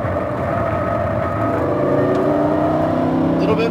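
Lamborghini Huracan engine on a racetrack, a steady loud mechanical roar with shifting tones as it brakes and downshifts, continuous and close throughout.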